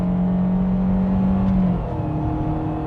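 Floored from inside the cabin, a Fiat Argo Trekking 1.3 CVT drones loudly at steady high revs, the tone holding flat before the pitch drops slightly as the transmission shifts its ratio.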